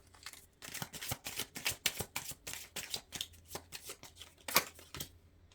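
Tarot cards riffled and shuffled by hand at close range, a rapid series of crisp papery flutters and slaps in uneven bursts, with no speech.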